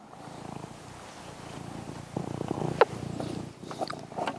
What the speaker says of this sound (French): Lui, on l'entend bien ronronner dans le micro normalement.